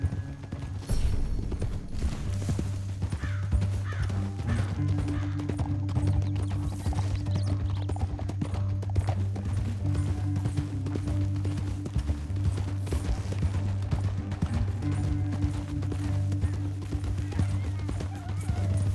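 Rapid hoofbeats of a galloping horse in Red Dead Redemption 2 pound steadily over a low, constant rumble, fairly loud and continuous for the whole stretch.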